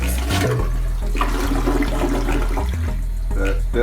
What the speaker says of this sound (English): All right, let's flush her.